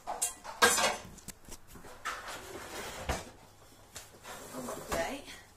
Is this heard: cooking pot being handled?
yes